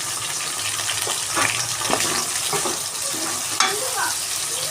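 Onions and tomatoes hiss and sizzle in a hot pan while cooking for chicken biryani, a steady close frying crackle with occasional stirring scrapes and clinks throughout.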